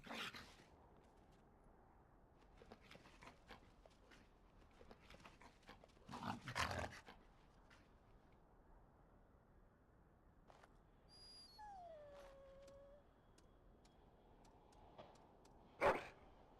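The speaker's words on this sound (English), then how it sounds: "That's a good doggy." A dog in the Dragon Age video game breathes and pants in soft bursts with a faint whimpering whine, quiet against a hushed background, capped by a sharper sound near the end.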